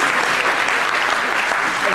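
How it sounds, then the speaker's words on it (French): Dense, steady audience applause at a conference, a broad wash of many hands clapping continuously at close range with no pauses. "Applaudissements."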